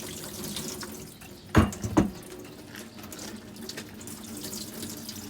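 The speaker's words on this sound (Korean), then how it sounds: "수돗물로 헹궜었으니까 정수물로 한번 마지막에 헹궈 주시고요" Sea lettuce being rinsed under running tap water in a sink, a steady close splashing flow broken by two brief louder splashes.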